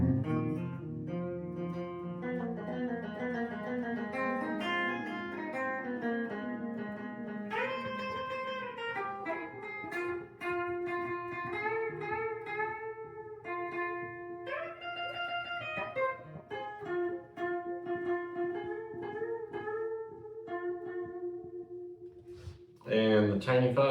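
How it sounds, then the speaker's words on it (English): Electric guitar playing Delta blues in open C through a Borealis reverb pedal, with slide-like ringing notes and chords that sustain and bloom in a roomy wash, played solo with no talking. "Add a little reverb with the Borealis."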